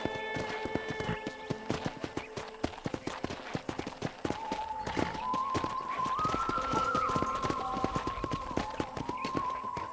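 Horse hooves clip-clopping in the Red Dead Redemption video game, a steady rhythmic stream of hoofbeats over several seconds alongside game music tones, with no talk.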